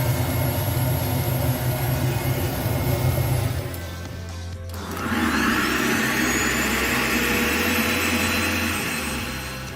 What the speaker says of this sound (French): cet aspirateur, il fait quand même pas mal de bruit, mais pas beaucoup plus que la CNC en fonctionnement